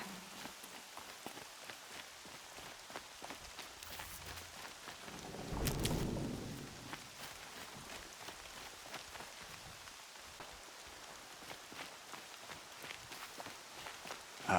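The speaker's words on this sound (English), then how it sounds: "Rain's not so bad." Rain patters steadily in the video game Horizon Zero Dawn, with a low rumble of thunder swelling midway through, while footstep-like crunches tick through.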